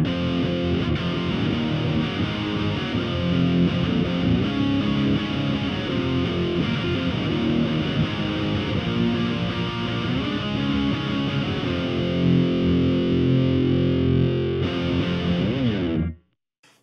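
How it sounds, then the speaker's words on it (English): Electric guitar driven through a Legacy Drive preamp pedal into a modeled bass 8x10 speaker cabinet, a thick distorted tone ringing continuously and loudly for about sixteen seconds before cutting off abruptly. "Let's try running that sound through a model of a bass 8x10 cab."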